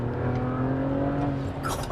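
A BMW 335i fitted with China turbos pulls hard under acceleration, with a steady loud engine drone and rising whine from inside the car, and a short burst of voice near the end.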